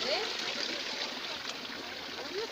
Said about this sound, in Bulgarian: Ето тук са чешмите.